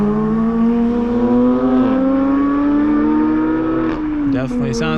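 A Porsche 911 GT3 drives past with a loud, high-pitched flat-six wail climbing through the revs, then dropping in pitch as it passes, heard nearby from inside another car.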